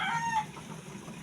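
Hybrid chickens cluck and call briefly at feeding and watering time, a short burst of close fowl sounds over low ambient noise.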